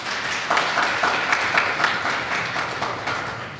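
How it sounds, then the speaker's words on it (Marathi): A church prayer gathering breaks into steady applause, many hands clapping together in a dense, sustained patter that fills the room for several seconds before tapering slightly. "टाळ्या वाजवू आपण सर्वजण"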